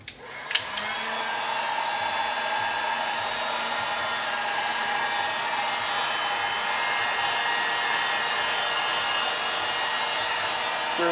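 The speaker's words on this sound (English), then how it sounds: "now we're gonna pull the heat gun out" A heat gun blows hot air onto silicone in a glow-in-the-dark flip-and-drag pour, starting with a click and then holding a steady, close, whining whoosh throughout.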